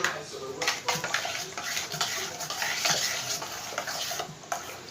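A milk and egg mixture for junnu is stirred briskly in a bowl, a continuous scraping swish with repeated rhythmic strokes, close and fairly loud.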